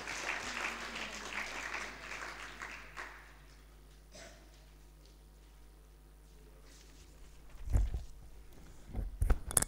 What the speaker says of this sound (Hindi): जोरदार तालियों के माध्यम से सभी भाई साहब का स्वागत करें